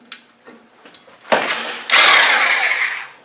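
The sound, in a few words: Sawzall reciprocating saw cutting exhaust silencer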